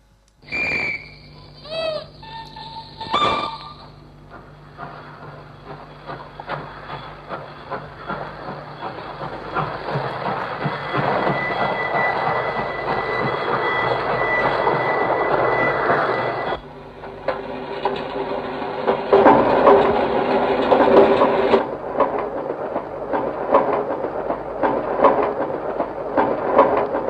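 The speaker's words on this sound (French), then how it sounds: "vous allez tout de suite vous rendre compte que ce sont des sons de train" Rhythmic mechanical rattling and clattering of a train on rails builds steadily, layered with whistle-like tones and a few sharp metallic sounds at the start, arranged as musique concrète.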